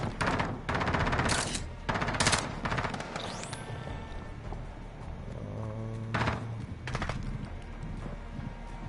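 Bursts of automatic gunfire in Call of Duty Modern Warfare, several loud rapid volleys in the first few seconds, then a quieter stretch with a tonal in-game effect and one more burst near the end.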